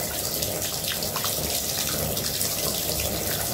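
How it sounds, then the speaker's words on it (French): Water runs steadily from a tap onto towels lying in a bath, a continuous close splashing hiss with no pauses and no voices. "maintenant, je vais laisser de l'eau couler dessus pour que ça puisse sortir de l'eau blanche"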